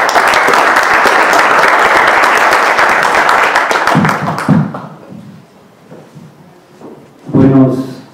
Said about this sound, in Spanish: Y les pido un aplauso para